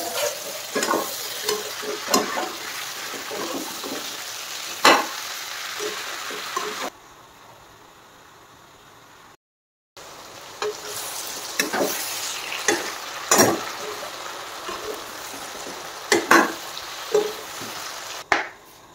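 Ash gourd and duck meat fry in a pan for a traditional Assamese curry, a continuous close sizzle with regular scraping and clacking stirring strokes, briefly quieter midway, with no talking.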